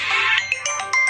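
A phone's ringtone plays close and loud, a bright melodic tone run of several quick notes filling the short moment.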